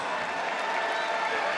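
A crowd in Philadelphia applauds and cheers for wrestler Helen Maroulis, a dense steady wash of clapping and crowd noise with no breaks, with an announcer's voice partly audible over it.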